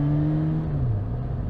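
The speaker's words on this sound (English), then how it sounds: "If you find yourself coming to a stop on this bike and the bike's holding on to the revs a bit" A Suzuki GSX-S1000 motorcycle engine holds its revs as the bike comes to a stop, a steady close drone whose pitch sags partway through and then settles.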